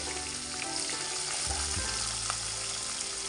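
Onions sizzling and frying steadily in a pan with mustard seeds and green chillies for a spiny gourd curry, a continuous dense crackle with a few stirring knocks, close and fairly loud.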